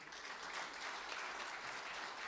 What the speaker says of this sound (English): They can't clap for me like this.